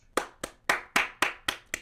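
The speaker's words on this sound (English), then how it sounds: "Clap it up." Seven crisp hand claps in an even rhythm, fairly close but modest in volume, with no other sound between them.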